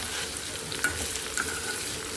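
Onion pieces being stirred and fried in a pan for a bitter gourd (kakarakaya) curry, giving a steady close sizzle with a couple of brief scraping stirs, no talk.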